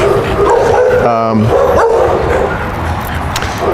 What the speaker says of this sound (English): he's totally ignoring that dog that's barking at the fence line